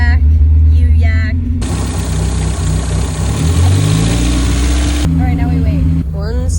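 A car engine runs steadily with the foot resting lightly on the gas and the heater fan on full blast, a loud continuous rumble and roar through the middle, with brief voices before and after.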